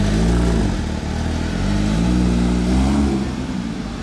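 Porsche 992 GT3 driving past an Aston Martin, a loud steady engine note that holds near and full, with slight rises and dips in pitch as it passes.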